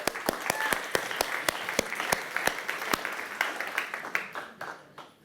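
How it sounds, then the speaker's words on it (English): An audience at a closing conference session claps steadily, sharp claps ringing out over dense applause that holds strong before thinning out toward the end. "Should we give them a clap?"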